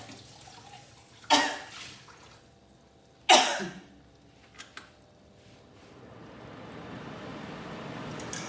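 Two sharp coughs about two seconds apart while cooking chili sambal, followed by quieter clicks and a faint rising hiss.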